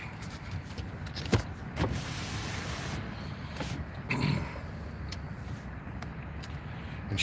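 An electric power window motor running inside a hot truck cab, a steady mechanical whir sustained across several seconds with a couple of brief clunks near the start, heard close up with no talking.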